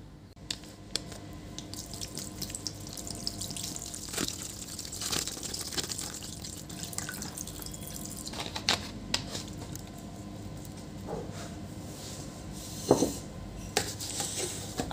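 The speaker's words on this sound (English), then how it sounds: "I will wash the circuit by clean water using detergent" Clean water rinsing a laptop circuit board from an HP ProBook 440 G4, a quiet trickling wash with irregular splashes, drips and small clicks of handling nearby.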